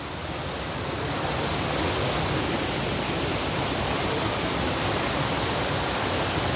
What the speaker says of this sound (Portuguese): muito legal essa cachoeira